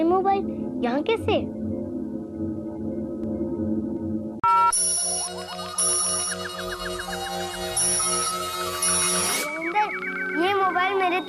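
A mobile phone ringtone in a children's magic fantasy show starts abruptly and plays a bright, repeating electronic melody for several seconds over background music and effects, then cuts off.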